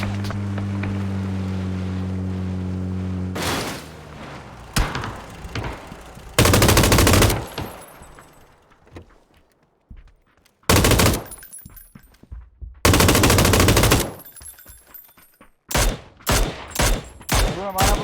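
Gunfire in the video game PUBG during a two-player squad match: loud automatic bursts and single shots come in separated volleys, with a vehicle-like engine drone early on.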